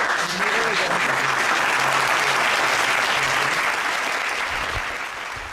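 Sustained applause from a crowd at a podcast recording, steady and loud throughout, with a faint voice briefly audible beneath the clapping.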